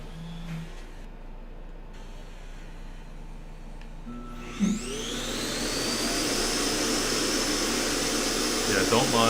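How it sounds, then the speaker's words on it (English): A Roomba robot vacuum runs with a steady low hum, then its dustbin-emptying cycle kicks in with a loud, rising whooshing roar that holds for several seconds. "It emptied out the dustbin and it made a lot of noise."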